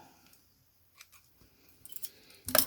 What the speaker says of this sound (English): Okay, trim all your threads.